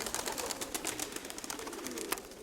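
Pigeons in a loft give soft, low coos amid faint rustling and clicks, quiet and somewhat distant, with no one speaking.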